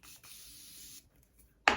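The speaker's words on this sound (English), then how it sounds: "I'll spray this brush" A Morphe setting spray hisses onto a makeup brush in one steady, close burst lasting about a second, followed by quiet and then a sharp brief clatter.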